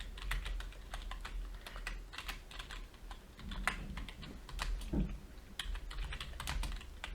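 Rapid, continuous typing on a computer keyboard with dense clattering keystrokes close to the microphone, quiet overall and without speech.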